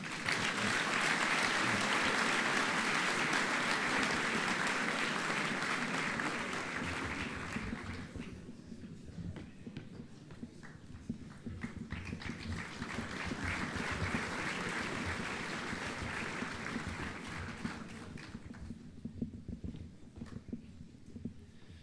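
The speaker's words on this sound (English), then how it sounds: "Another round of applause, please." Audience applause fills a school speech night hall, loud and sustained broadband clapping for about seven seconds, then fading to a lighter patter before swelling into a second long round and tapering off again.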